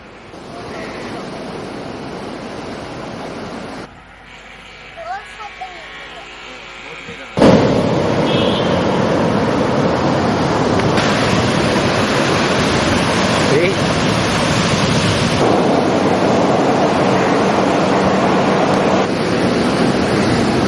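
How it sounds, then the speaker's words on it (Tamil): Rough monsoon sea pounding a fishing-district shore, a loud continuous broadband wash of surf with surges, including a sharp heavy crash partway through, alone without talk. "காலகாலமா அடித்து வந்த மாரி கடல் மிகவும் வேகமாக இந்த முறை அடித்துக் கொண்டிருக்கிறதால"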